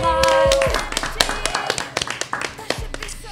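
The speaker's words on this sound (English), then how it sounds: "So let's give her a hand of applause." A small studio group claps for a guest on a conversation show: a voice trails off, then scattered, uneven claps ring out close by and fade out.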